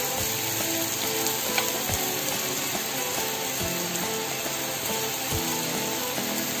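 A ragi rava masala dosa crisps on a hot pan, a continuous close sizzle and crackle, with occasional dull knocks of a utensil against the pan.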